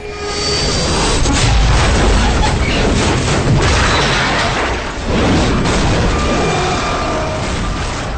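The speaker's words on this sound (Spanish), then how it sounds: "Y entonces, la explosión." A loud, sustained roaring explosion in a horror audio drama, with deep rumble and crackling debris, filling the whole stretch with dense noise that barely dips.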